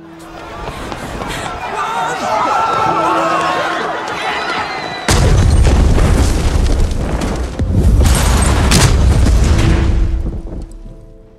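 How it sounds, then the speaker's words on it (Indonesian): A suicide bomb goes off in a film scene, a sudden loud, deep blast that cuts in mid-clip and rolls on as a heavy, rumbling roar with debris. Dramatic music and voices are heard before it. "Ya, itu adalah bom bunuh diri. Ledakan tersebut cukup telak untuk memakan banyak korban."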